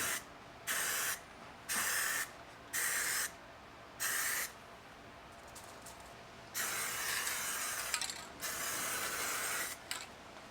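Aerosol spray paint applied in wet coats to 19-inch Audi A4 wheels, a series of sharp hissing bursts of a second or so each, then a longer sustained spray, close and clear with no talking.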